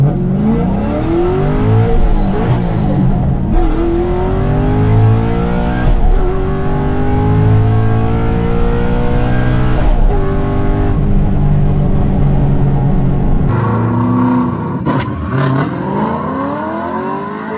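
Twin-turbo Camaro accelerating hard at a race track, loud engine revs sweeping up through the gears with brief breaks at the shifts, then a drop in pitch as it backs off near the end.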